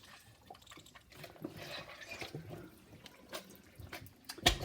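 Water trickles and drips steadily as cured bacon drains in a kitchen, a soft continuous wet patter with a few louder splashes near the end, quiet and close with no talking.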